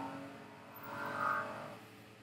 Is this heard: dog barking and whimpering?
no